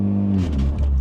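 A car engine with about 93,000 miles catches on a hot start, a loud low rumble that surges briefly and settles into a rough idle.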